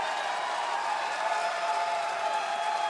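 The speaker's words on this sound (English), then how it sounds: "Listen to the crowd" A wrestling crowd in Philadelphia at a Ring of Honor show cheers in a steady, dense roar, an even wall of crowd noise without pauses.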